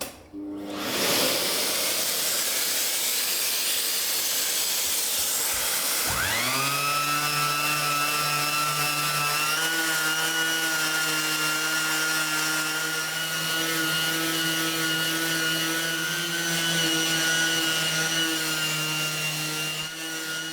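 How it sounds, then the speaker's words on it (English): Sanding a plaster wall beside a 250-year-old fireplace: a motorized sander hums, stops briefly, then winds back up into a steady droning tone with gritty abrasive hiss, close and continuous without talk. "let me just crack on with sanding"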